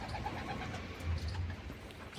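Low, soft cooing of pigeons, adults and young, repeating a few times, with a faint engine hum in the background.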